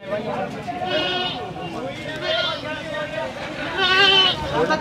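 Goats at a livestock sale, several loud wavering bleats rising above a background of people talking nearby.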